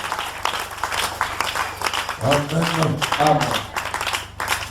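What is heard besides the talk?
congregation applauding and clapping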